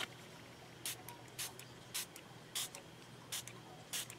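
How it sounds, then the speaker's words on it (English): A medium water mister sprays water onto a stamped card in six quick, short hissing bursts, evenly spaced over a quiet background. "I'm just going to spray some water on here"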